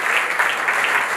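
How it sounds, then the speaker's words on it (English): A short burst of audience applause at a book launch event, dense steady clapping from a crowd with no gaps, close and fairly loud. "A huge round of applause, Ranveer Singh and Sonam Kapoor for reading"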